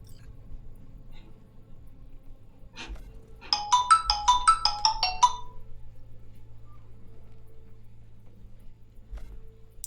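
A phone rings with a short burst of rapid electronic chirps lasting under two seconds, fairly faint over a low steady hum in a quiet room, with no voices.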